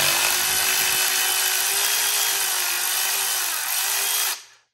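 A power tool fitted with a 12 mm socket and extension spins off the exhaust bolts of a 2021 Yamaha Tracer 9 GT, producing a loud, close, steady high-pitched whine for about four seconds before cutting off.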